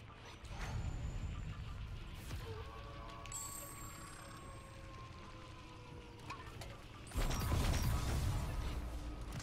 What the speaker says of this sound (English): Changing mag.